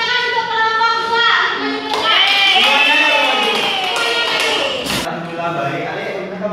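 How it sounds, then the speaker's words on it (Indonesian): Schoolchildren in a classroom clap for a group after a role-playing lesson, a dense patter of applause mixed with children's voices that stays fairly loud throughout. "Tepuk tangan untuk kelompok 2."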